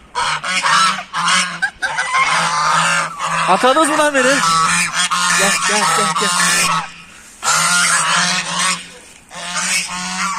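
Several geese honk loudly and repeatedly up close, in noisy bursts, while someone talks over them.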